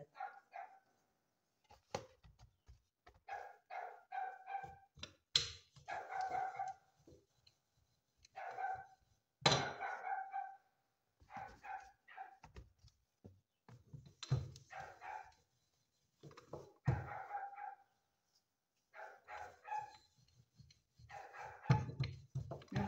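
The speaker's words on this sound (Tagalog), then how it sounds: "Yung aso namin maingay." Two pet dogs, one male and one female, bark noisily outdoors in repeated loud bursts and yips, with short gaps between the volleys and no talk over them.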